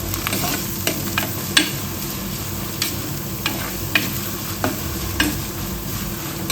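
Onion, garlic, ginger and green chilli sauté in a pan for a fish dish, a steady hiss of frying with a spoon scraping and stirring now and then, close and continuous with no talking.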